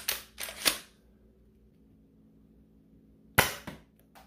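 A shell-ejecting XYL M870 toy shotgun blaster fires foam darts: sharp snapping pops come in quick clusters, three near the start and two more after a quiet gap, close and fairly soft.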